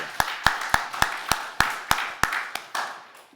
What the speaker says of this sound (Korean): 우리 하나님께 감사의 박수 한번 올려드립시다